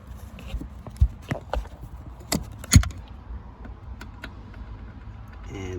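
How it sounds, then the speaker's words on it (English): Sparse metallic clicks and clinks from a tool working T30 Torx bolts out of the shifter of a 1990-2004 Panther-platform Town Car, Grand Marquis or Crown Victoria, close and fairly quiet over a low background rumble. "So going to take these T30 Torx bolts out."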